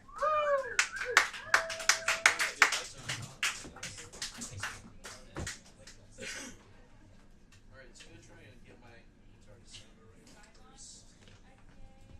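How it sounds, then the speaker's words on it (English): A small pub crowd at a live podcast taping claps for a performer, sharp uneven handclaps near the start that thin out and fade, with voices and chatter continuing quietly afterward. "Another warm round of applause for Chris"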